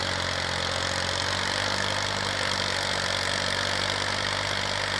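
A used tractor's engine idles steadily at close range, a loud, even mechanical rumble with a constant low throb and no change in speed throughout.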